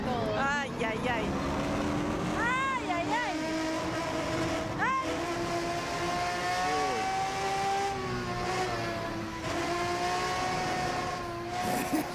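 A racing car engine in a driving simulator game climbs and falls through repeated revs and gear shifts, held at a moderate level while people talk over it throughout.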